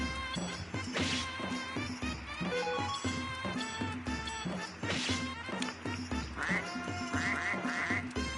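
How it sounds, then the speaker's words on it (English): A duck quacks a few times in the Suikoden 2 remaster, short game-sound calls set against busy, continuous game music with no talk. "Quack."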